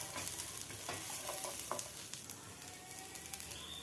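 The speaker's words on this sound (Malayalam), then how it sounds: "പാൻ വെച്ച് ഉള്ളിയും വെളുത്തുള്ളി ഇഞ്ചി ആദ്യം ഇട്ട് കൊടുത്ത് ഒന്ന് ഇളക്കി കൊടുക്കാം" Onion, garlic and ginger sizzle in a pan while being stirred, a steady close frying hiss with a few light scrapes and taps throughout.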